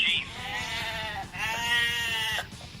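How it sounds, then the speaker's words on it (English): A sheep bleating sound effect: two drawn-out, wavering bleats in succession, clear and close with no talking. "Sheep."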